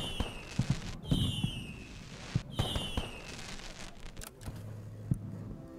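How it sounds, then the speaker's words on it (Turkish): Fireworks in the video game Black Skylands, a string of sharp pops and crackling bursts with whistling launches, loud and irregular against a rumbling background. "Havai fişekler."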